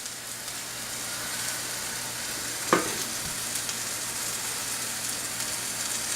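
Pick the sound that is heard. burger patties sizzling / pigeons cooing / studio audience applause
burger patties sizzling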